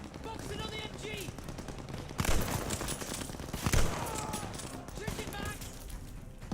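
Machine gun fire in Call of Duty Vanguard, with bursts and heavy impacts over continuous battle noise and shouted voices throughout, two louder blasts standing out in the middle.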